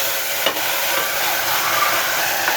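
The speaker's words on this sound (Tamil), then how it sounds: "நல்லா வதக்கணும் இதை நல்லா வதங்கி வரட்டும்" Chicken with yogurt and green chillies sautés in a pan, a dense, even hiss of frying throughout, with a couple of soft stirring knocks near the start.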